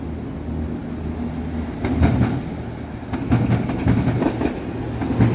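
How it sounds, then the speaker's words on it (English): A UP Express train passes on a hazy, hot night in downtown Toronto: a steady, loud rumble of wheels and carriages with rhythmic clacking that builds toward the end, with no talking. "Oh, I see a train a-coming."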